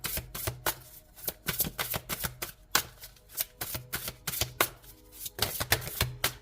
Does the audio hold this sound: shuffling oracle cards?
yes